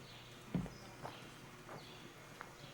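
A horse trots at an even pace in an indoor riding arena, with soft, regularly spaced hoof thuds on the footing against a quiet, roomy background.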